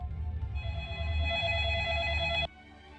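Telephone ringing in the Honkai: Star Rail video game, a bright electronic ring that sustains clearly for about two seconds and then cuts off abruptly.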